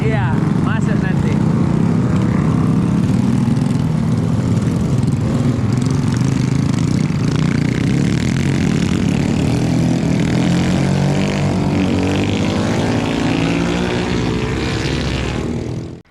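A motorbike engine droning loudly and continuously as it climbs a rocky, foggy village road toward the B29 summit near Bromo, a steady, close roar with shifting pitch and a voice talking over it, then cutting off abruptly at the end.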